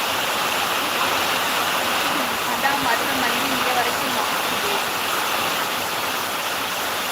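Heavy rain heard as a constant, loud broadband hiss throughout, with a voice talking quietly beneath the downpour.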